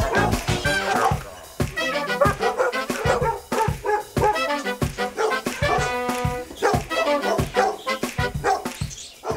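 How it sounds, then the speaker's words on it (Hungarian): Ancient Hungarian guard dogs bark in rapid, overlapping volleys close by, with sharp repeated woofs and occasional higher yips and whimpers filling the stretch without pause. "Kellenek ezek az ősi magyar kutyák, akik éjszaka egy területet védenek."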